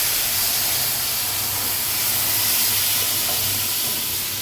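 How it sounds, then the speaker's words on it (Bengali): Tadka dal poured into a hot pan over a fried egg gives a loud, steady sizzling hiss that stays even throughout with no talking. "ডিমটা এরকম ভাজা ভাজা হয়ে গেলে তারপরে তরকা ডালটা ঢেলে দিতে হবে"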